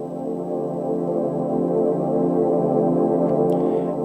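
Sustained ambient pad layers from a Korg Wavestate synthesizer, a dense, steady harmonic drone holding at even loudness throughout, with a faint airy swell near the end.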